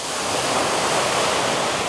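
Sea water moves beside a waterfront restaurant on Paros, Greece, a steady, close wash of surf with breezy hiss, uniform and unbroken with no voices.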